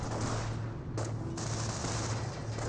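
Dense battlefield gunfire from a Company of Heroes match, a Wehrmacht sniper rifle among steady rattling small-arms fire over a constant low rumble, with a brief lull near the middle.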